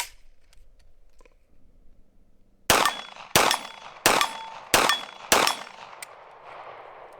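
A Foxtrot Mike FM45 loaded with Tula ammunition fires five loud, sharp shots in a steady, evenly spaced rhythm after some quiet handling clicks, each crack decaying quickly outdoors.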